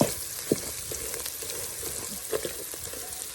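Shrimp paste stir-fries in a pan with a steady moderate sizzle and occasional soft knocks and scrapes of a spatula, close by and with no speech.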